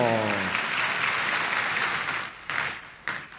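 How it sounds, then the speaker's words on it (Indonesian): Loud, dense applause from a church congregation fills most of the stretch, then breaks off into a few scattered bursts of clapping as it dies away. "Kasih tepuk tangan dulu dong."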